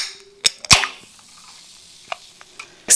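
A can of Trip drink cracked open one-handed, with a sharp pop and fizzy hiss near the start, then small clicks and taps and a loud snap at the end.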